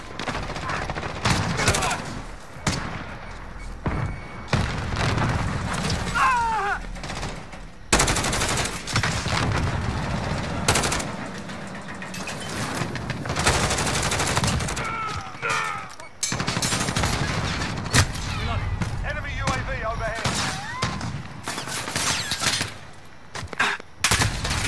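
Rapid bursts of automatic gunfire from Call of Duty, set on the Rust map, fire again and again across the stretch, loud and close. A voice speaks now and then among the shots.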